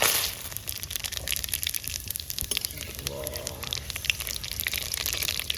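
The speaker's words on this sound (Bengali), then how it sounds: "তেল গরম, এখন ফোড়ন দেবো। নর্মালি যেটা দিই, জিরে, তেজপাতা, শুকনো লঙ্কা।" Cumin seeds, bay leaf and dried red chilli hit hot oil for a tempering, a close, crackling sizzle with sharp spits and pops that continues throughout, with a voice talking over it.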